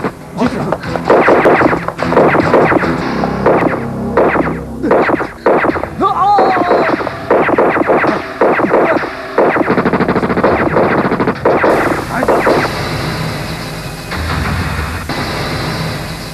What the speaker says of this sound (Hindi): चालू रखना फायरिंग